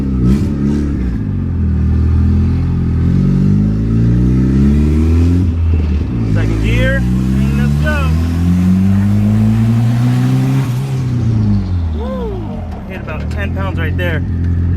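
A boosted F23 Honda Accord engine revs hard and loud from inside the car, rising through repeated accelerating sweeps with brief shift dips, while a driver talks over the engine noise.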